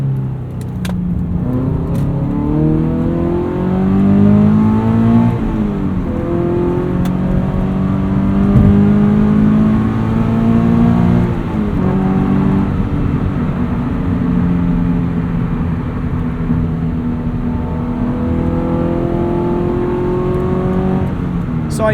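Subaru BRZ fitted with a catted UEL header accelerating up a highway entrance ramp, its engine note climbing steadily through the gears with rising harmonic whine, continuous and loud from inside the cabin, no talking.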